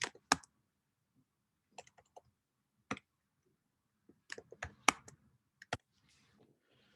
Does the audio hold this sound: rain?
no